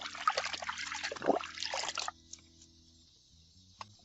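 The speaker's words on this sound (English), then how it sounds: "So mix that in the water" Laundry soap, an oxy stain-lifter, swished by hand into a basin of water, giving close, loud sloshing and trickling for about two seconds, then quieter faint dribbles and a small drip.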